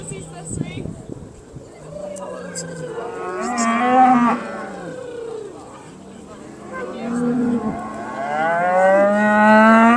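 Simmental cow and calf at a Scottish national cattle show, bellowing in several long, loud, close moos with a short low call near the start, set against a faint hall background.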